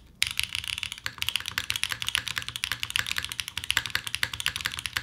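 Mechanical Wind x98 R2 keyboard being typed on, a dense, fast stream of crisp clacky keystrokes with steady rhythm, close and clear with no talking.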